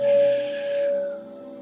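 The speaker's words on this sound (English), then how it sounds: "As we both pick up our bowls and start chiming." Singing bowls chimed during a meditation session, a pure sustained ringing tone with shimmering overtones that slowly fades, heard alone.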